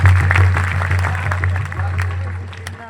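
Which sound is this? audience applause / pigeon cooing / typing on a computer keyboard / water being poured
audience applause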